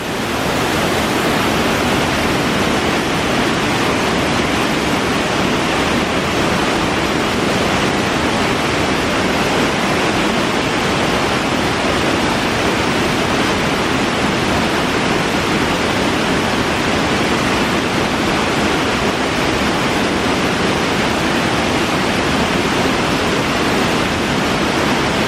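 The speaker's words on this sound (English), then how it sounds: "Back down to our waterfall." Waterfall on a mountain hike, flowing down and running underneath ice, gives a steady, loud broadband rush that holds unchanged for the whole stretch, with no voices over it.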